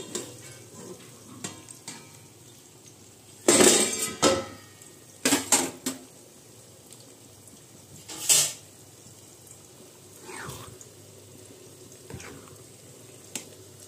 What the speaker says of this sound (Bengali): তো এবারে কিন্তু আমি ডালিয়ার কড়াইয়ের ঢাকনাটা খুলে ফেলব।